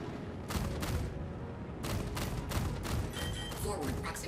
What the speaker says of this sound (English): We'll just use the laser cannons. I'm sorry, we'll use the ballistic cannons this time.